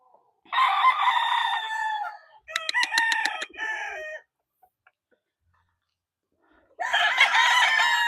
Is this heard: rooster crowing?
yes